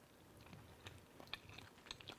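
Someone quietly chews a mouthful of vegan broccoli mac and cheese, with soft crunches from the broccoli coming in a loose, irregular rhythm close to the mic and no talking.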